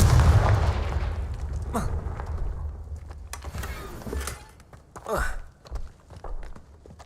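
Incendio and Confringo spells cast in the Hogwarts Legacy video game, a series of fiery whooshes, booming impacts and crackling bursts of varying loudness, with a heavy rumble at the start and sharp strikes toward the end.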